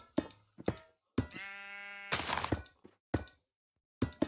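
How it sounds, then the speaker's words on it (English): A Minecraft sheep lets out a clear, wavering bleat, surrounded by several short hollow thunks and knocks scattered through quiet gaps. "A sheep!"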